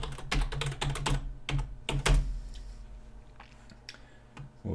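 Rapid keystrokes on a computer keyboard as a password is typed, a close burst of quick clicks that slows into a few scattered taps.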